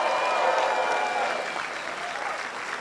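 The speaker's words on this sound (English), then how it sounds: "Let's acknowledge and give all the other candidates a round of applause." A crowd at a Chicago mayoral election night rally applauds for the other candidates, a dense wash of clapping that stays steady and gradually fades a little.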